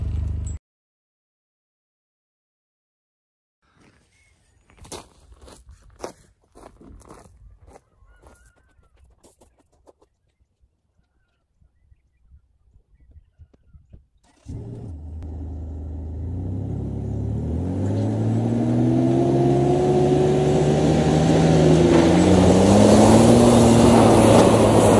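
A car towing a heavily loaded trailer onto a block-paving and gravel driveway: scattered clunks and knocks at first, then an engine rumble that swells and revs steadily louder, sustained and close.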